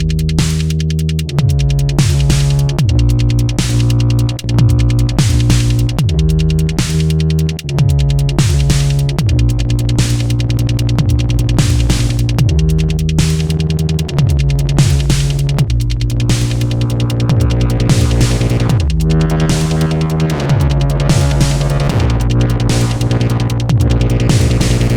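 A static synthesizer bass line from a Eurorack modular setup, its amplitude pulsed by a clocked LFO into a steady throbbing rhythm, loud and continuous with shifting notes and no voices.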